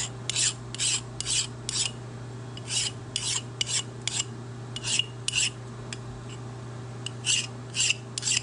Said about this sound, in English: give it a deburr with a file